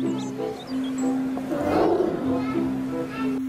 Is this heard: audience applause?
no